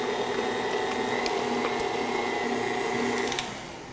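An electric mixer whirs steadily through banana bread batter in a kitchen, a continuous close motor drone with faint rattles against the bowl that cuts off near the end.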